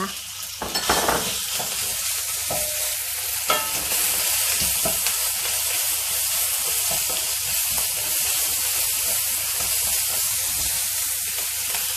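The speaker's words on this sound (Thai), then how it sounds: "แล้วก็กุ้งแห้งค่ะนำลงทอดให้หอมเลย ตามด้วยหมูสับค่ะ" Dried shrimp and minced pork frying in a hot pan for a Thai glass noodle stir-fry with tofu skin, a loud steady hiss and sizzle throughout, opening with a few sharp clatters of stirring, close and without talk.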